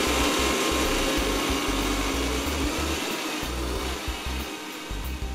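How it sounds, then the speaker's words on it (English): A loud, constant motor whir from a blender running alone, blending sweet potato, with a low, uneven churning rumble underneath. "now I'm just going to blend it."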